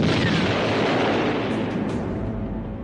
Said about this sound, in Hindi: फिर चली गोलियां, फिर हुआ धमाका